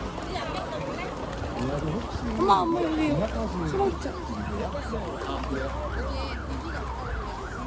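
A fire truck siren wails in rising and falling sweeps at a park on a crowded holiday, moderately distant and steady under busy crowd noise and someone talking close by.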